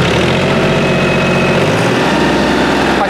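A Mahindra OJA 2127 tractor's engine runs loud and close with a rough, throbbing idle, then its pitch climbs as it revs up toward 2500 rpm, with no talking over it.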